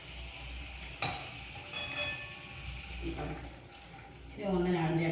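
Ghee kozhukattai dumplings fry in hot ghee with a soft, continuous sizzle and occasional utensil clinks, mostly beneath a person talking.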